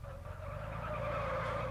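Street race cars skid in the MadOut2 video game, a sustained loud tire screech over a droning engine, continuous and close throughout.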